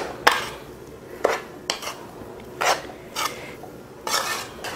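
Spoon scraping and stirring through a potato masala filling, mixed side by side, giving several separate bursts of scraping about a second apart, fairly close and moderately loud with no talk.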